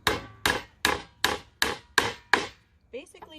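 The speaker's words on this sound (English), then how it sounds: "I'm just going to hammer them in my post." Seven sharp hammer blows drive nails into a wooden post at an even, steady pace, close and loud, followed by a brief soft rustle.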